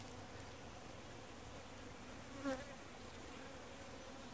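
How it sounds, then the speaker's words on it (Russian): Bees hum around spring primrose flowers at an apiary, a faint steady insect drone with one brief closer buzz passing by midway, no voices. "Наши первоцветы все усеяны пчелками."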